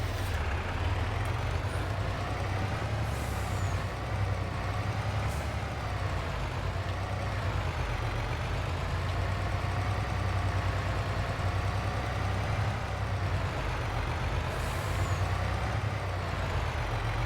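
Truck engine in Farming Simulator 22 droning steadily and loudly throughout, a continuous low rumble that swells slightly as the vehicle gains speed, with faint hiss-like bursts near the start and end.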